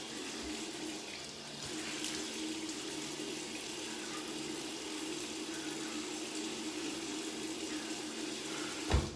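Water runs steadily from a tap into a sink to wet a beard, a continuous close splashing hiss lasting throughout with no talk, ending in a brief louder splash.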